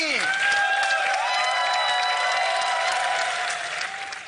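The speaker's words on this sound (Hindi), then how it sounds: "तालियों से स्वागत कीजिए आपकी पहली परफॉर्मर का" An audience on the Lock Upp reality show applauds to welcome a performer onto the arena stage. Loud clapping and light cheering blend with bright sustained musical tones that fade near the end.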